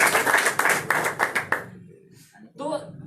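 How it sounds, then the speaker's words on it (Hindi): A seated audience at an RCM network-marketing business meeting claps loudly in a dense burst of hand claps that stops abruptly after about a second and a half, followed by quieter room sounds and a brief voice. "एक बार जोर ताली"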